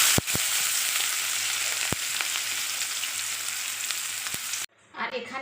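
Chopped onion, a large one, hits hot oil already seasoned with bay leaf, dried red chilli and cumin, giving a loud, steady broadband sizzle with a few sharp clicks, then cutting off abruptly near the end, leaving faint quiet stirring.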